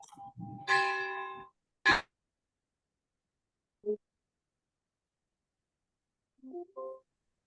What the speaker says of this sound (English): Some bells going on in the background